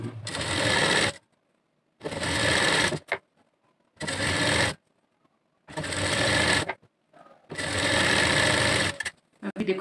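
A sewing machine stitches a blouse in five loud bursts of rapid mechanical whirring, each lasting about a second, separated by short quiet pauses.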